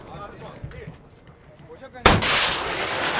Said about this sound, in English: A tank fired at a suicide truck bomb before it could wreak its havoc.